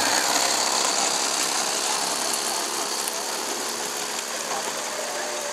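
A G scale live steam locomotive runs at an evening steamup, giving off a continuous loud, broadband hiss and rumble like a motorcycle engine, steady throughout with no talk.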